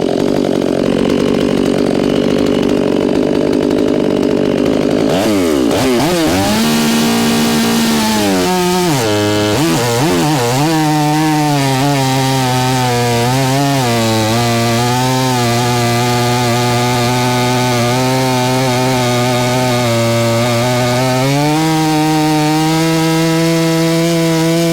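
A Stihl chainsaw, one of an MS500i, MS400C or MS462C, revs up and bites steadily into wood, its loud engine drone dipping and rising in pitch under load through a long continuous cut.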